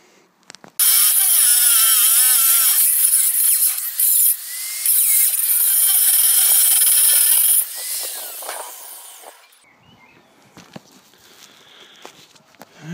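A worn diamond-tipped cutting disc grinds through the metal of a car seat base, giving a loud, sustained, harsh shriek for several seconds before it stops, followed by quieter clanks and handling noises.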